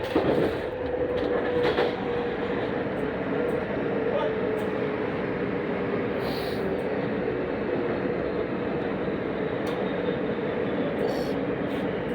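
Steady rumble of a WMATA 6000 series Alstom metro train riding on the Yellow Line out of Mount Vernon Square, heard from inside the car, with continuous rail noise, a faint squeal and brief clicks throughout.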